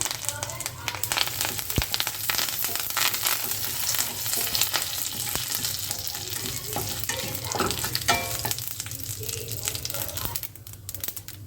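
Dried red chillies and curry leaves crackle and spit as they temper in hot oil, a dense close sizzle broken by papery rustles and spoon scrapes, easing slightly near the end.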